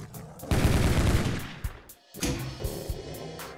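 Bursts of rapid enemy gunfire from the Doom 2 Plutonia 2 shooter, loud and dense for over a second, then a brief gap and a second weaker volley of shots.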